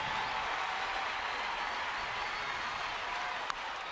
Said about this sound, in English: Listening to that crowd.